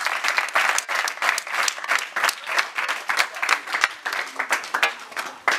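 An audience claps steadily throughout at a staged family contest in a Nollywood drama, a dense, sustained applause with many overlapping hand claps at close range and no talk over it.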